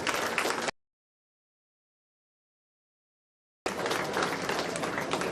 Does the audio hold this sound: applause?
yes